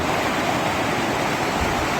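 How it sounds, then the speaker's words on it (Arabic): A great river of fresh water flows in the Yemeni countryside, making a dense, steady rushing roar, loud and close, with no other sounds over it. "يستنشق الهواء النقي ويمتع ناظريه بجريان نهر عظيم ومياهه العذبة النقية"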